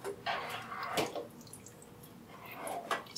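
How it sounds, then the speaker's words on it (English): Vegetarian pasta sauce with tofu stirred carefully in a pot, soft wet squelches and dripping clicks at a gentle irregular pace, close and quiet. "Stir everything together carefully"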